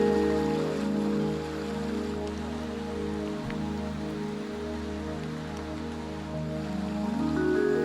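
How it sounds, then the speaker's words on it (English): Steady rain pours down through a mossy, primordial forest, a dense, even hiss of drops on leaves and ground that runs unbroken and fairly loud, with no voices. "the rain has started to pour down"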